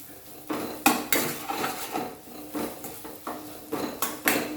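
Carrot chutney with asafoetida is stirred in a pan over a low flame, giving repeated close clinks and scrapes of a spoon against metal in an uneven rhythm.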